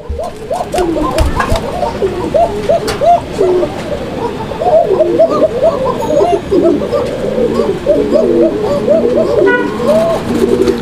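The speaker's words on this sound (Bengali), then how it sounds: "অ্যারাবিয়ান কোকা নর্মালি অনেক ডাকাডাকি করে, আর এদের মানে ডাকের যে সুরটা এটা কিন্তু অনেক চিকন" A pair of Arabian Koka pigeons at their nest with eggs coo continuously and loudly up close, thin repeated rolling calls overlapping in a dense rhythm, with a few sharp knocks early on.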